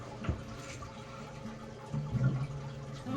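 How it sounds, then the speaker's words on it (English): Water is poured onto dry soil in planters with a faint, close trickle and splash. Two soft surges stand out, and no one speaks. "I'm gonna moisten all the soil."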